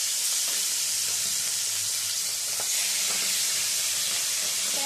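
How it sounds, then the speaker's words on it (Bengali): Tangra fish fry in hot oil, a loud continuous sizzle and hiss close up with a few faint pops and clinks beneath. "মাছগুলোকে দিয়ে ভেজে নেব।"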